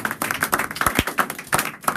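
A church congregation claps to acclaim the Lord, many hands striking in a quick, steady rhythm, close and loud with no talking.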